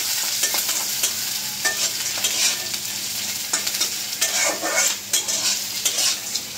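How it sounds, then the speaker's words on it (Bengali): Onion, garlic and green chilies fry in hot oil left from frying dried fish in a village kitchen, a loud continuous sizzle with repeated stirring and scraping, no voices. "এখন পেঁয়াজ রসুন কাঁচামরিচ এই তেলের ভিতরেই দিয়ে দিব।"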